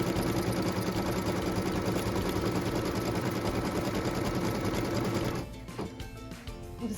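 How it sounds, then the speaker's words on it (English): A sewing machine quick-stitching a batting placement line on a quilt block, running in a loud, steady mechanical whir for about five seconds before stopping, followed by quieter fabric handling. "So that's just going to quick stitch that batting placement line for us"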